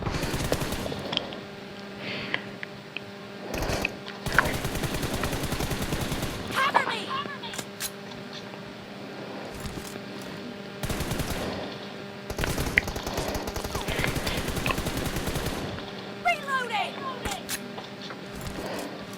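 Rapid gunfire bursts and single shots from the video game PUBG Mobile crackle through the scene, repeated loud volleys broken by short gaps, with people talking over them.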